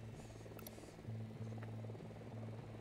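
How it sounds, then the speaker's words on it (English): A video game helicopter drones as a faint, steady buzzing rotor hum that continues alone. "Only that chopper."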